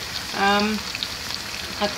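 Ingredients for sambal lonteh frying in hot oil until wilted and crisp give a steady, close sizzle, with a brief tonal squeak near the start, and nobody speaks.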